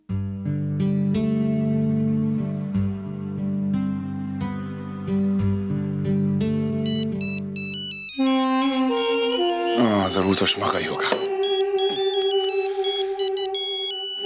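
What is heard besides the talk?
phone ringtone ringing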